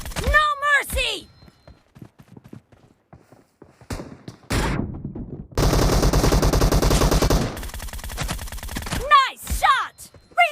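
Gunfire in the BGMI mobile game played on an iPhone 6s: sharp single shots, then long bursts of rapid automatic fire, loud and close, interspersed with short in-game voice callouts.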